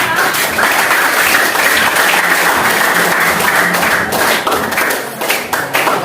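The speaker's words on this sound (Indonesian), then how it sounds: "Tepuk tangan buat kelompok 8." A classroom of students gives a group a loud, steady round of applause, dense rapid clapping close by that carries through the whole stretch and loosens only slightly near the end.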